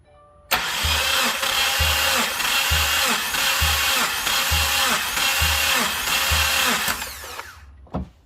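A 2015-or-later Subaru WRX 2.0L engine cranks during a compression test on cylinder 4 with the throttle held wide open, giving a loud, steady starter whir with evenly pulsing compression strokes that stops abruptly after about six seconds.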